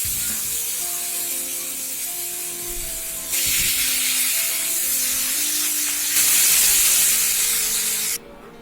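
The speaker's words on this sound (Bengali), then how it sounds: "এবার আমরা বাকি মাছগুলো ঠিক একইভাবে ভেজে নিচ্ছি" Katla fish pieces frying in shallow oil, not deep-fried, while a batch is cooked for a clove-spiced katla dish. A steady, close sizzling hiss runs throughout and grows louder partway through. Faint tonal sounds sit underneath.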